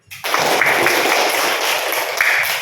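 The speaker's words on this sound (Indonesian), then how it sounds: "Tepuk tangan dulu." Close, loud clapping from a room full of children, a dense steady patter that starts abruptly and carries on without pause for a few seconds, with no talking over it.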